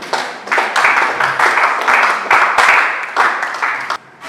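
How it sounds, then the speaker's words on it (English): Audience applause for a past district governor at a Rotary mental health talk show, close, fairly loud clapping in uneven bursts from a small group, cutting off near the end. "Please, a round of applause for him."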